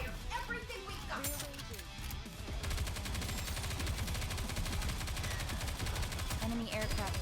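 Rapid automatic gunfire from the mobile shooter game Goddess of Victory, sustained bursts of fast repeated shots with clanking effects running loud and continuous throughout.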